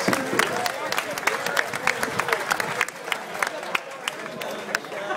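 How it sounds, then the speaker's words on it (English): Audience applause at an informal gathering, a lively patter of clapping from a small crowd with scattered claps and murmured chatter mixed in, fading slightly toward the end. "if I could get a big round of applause for all the guys who helped us out"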